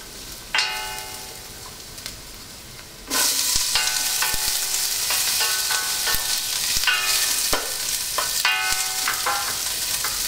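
Sliced onions dropped into a hot pan for shrimp pancit bihon, a quiet clank at first, then a sudden loud, sustained sizzle with ringing metallic scrapes and taps of a utensil stirring, no talking.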